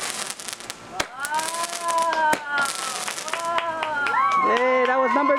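A hot tamale firework goes off at an outdoor Canada Day and Independence Day display, with a sharp crackling burst followed by sustained fizzing and whistling tones, loud and close. Crowd noise and voices are mixed in around it.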